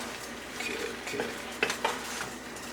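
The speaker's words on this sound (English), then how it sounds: "Now we stir for about 2-3 minutes. We're gonna put the tomatoes down, make sure they break down, start getting soft." A utensil stirs chopped tomatoes in a pan, scraping and clinking against the metal with soft sizzling beneath, a few sharp knocks standing out near the end.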